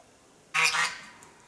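A single short goose honk rings out once, moderately loud against a quiet background.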